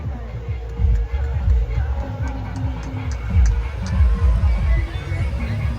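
A busy public place full of dense, overlapping crowd chatter and murmuring, with a steady babble of voices throughout and no single voice standing out.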